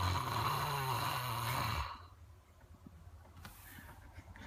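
A man snoring while asleep at a caravan park: a loud, rasping breath with a low droning rumble that stops abruptly, followed by quiet room hiss and faint rustles.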